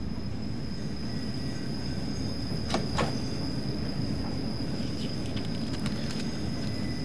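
A train in the Train Simulator 2015 video game rolls out of Sittingbourne station at low speed, a steady rumbling drone with a high electrical whine and a couple of brief metallic clanks and squeals partway through.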